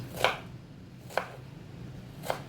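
Three crisp knife chops on a cutting board while chopping vegetables, evenly spaced about a second apart, close and fairly quiet with no talking.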